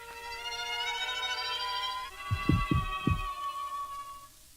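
A heartbeat sound effect: three or four deep, muffled thumps in a loose rhythm beneath a sustained, eerie tonal drone.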